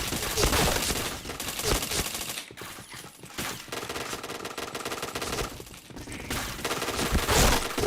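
Rapid bursts of automatic gunfire from a first-person shooter video game, dense and loud, with short gaps between volleys and some speech mixed in.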